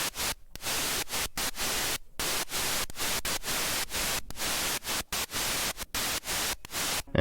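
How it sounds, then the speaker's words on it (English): Loud bursts of synthesized white noise made in FL Studio Mobile hiss in a choppy rhythm, cutting in and out with short silent gaps between them. "Then add some white noise."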